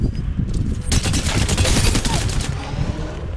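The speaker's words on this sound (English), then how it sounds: "Imagine using burst on this shotgun." A shotgun in Apex Legends fires in rapid burst mode, a dense run of close, punchy shots with a sharp crackle of repeated blasts through the middle of the clip.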